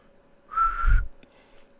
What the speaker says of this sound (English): Let's whistle along with each other.